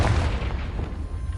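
A booming magical blast from the Confringo spell in the game Hogwarts Legacy, a dense, low rumbling burst that fills the short moment without any talking.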